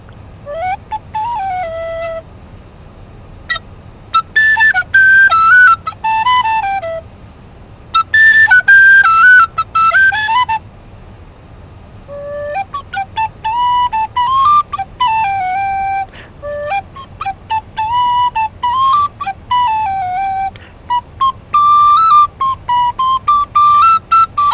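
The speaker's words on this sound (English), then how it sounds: "The Grenadier Guards quick march." A person whistles the Grenadier Guards quick march, a clear bright melody in short phrases with brief pauses, loud and close over a faint low hum, with no talking.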